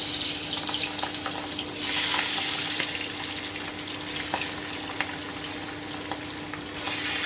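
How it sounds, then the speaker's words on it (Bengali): Fish fried carefully in hot oil produces a loud, continuous hissing sizzle with crackling spatters throughout. "মাছগুলোকে কিন্তু খুব সাবধানে ভাজতে হবে কারণ প্রচণ্ড ফুটবে"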